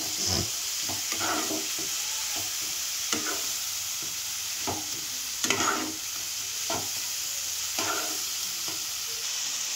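Spices fry and are stirred in a pan for a Bengali puti fish curry, a continuous hiss and sizzle broken by repeated scraping strokes of the spatula.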